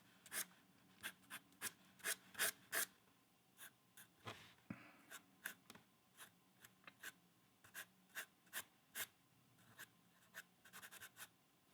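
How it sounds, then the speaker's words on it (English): Charcoal sketch of a Porsche 356 being finished with an eraser rubbed over paper, giving a series of short, close, dry scrubbing strokes in an uneven rhythm, alone without talk. "one last go over with the eraser just to make sure that I've got nice clean paper tone"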